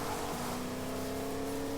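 A car engine in Fortnite droning steadily at constant revs, loud and close with a sustained, unbroken tone.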